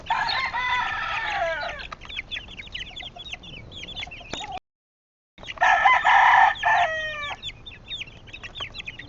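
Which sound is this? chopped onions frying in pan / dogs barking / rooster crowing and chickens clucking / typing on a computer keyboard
rooster crowing and chickens clucking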